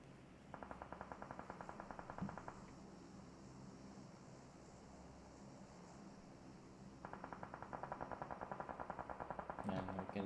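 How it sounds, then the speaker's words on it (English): Automatic gunfire in the mobile battle-royale game PUBG Mobile during a team scrim, two long bursts of rapid rhythmic shots sounding distant and quiet, separated by a lull, with a low background rumble. "And you can hear a lot of gunshots being fired by both teams here."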